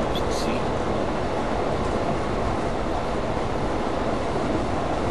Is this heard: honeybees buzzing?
no